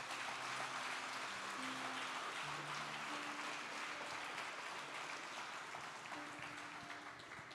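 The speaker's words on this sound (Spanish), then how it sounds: "Dele un fuerte aplauso a Jesús." A church congregation applauds in sustained, dense clapping that carries on steadily for several seconds before easing slightly at the end, with faint musical tones underneath.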